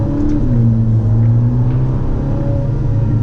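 Ferrari Portofino turbocharged engine cruising in traffic with the AC on, a steady loud low drone and hum inside the cabin, without speech.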